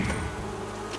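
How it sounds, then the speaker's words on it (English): Bees buzz faintly in a steady hum beneath a soft outdoor background, with no voices. "Yeah, I think I hear bees."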